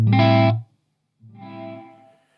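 A loud guitar chord through a Strymon Big Sky reverb cuts off, then after a clear silent gap a softer reverb wash swells in late from the unnaturally long pre-delay and fades away.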